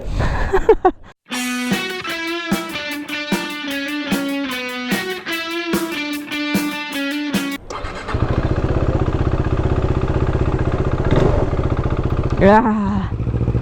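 A KTM RC390 motorcycle's engine revs up again and again in sharp rising sweeps, like quick runs through the gears, then settles into a steadier, rougher running note mixed with wind rush, loud and close.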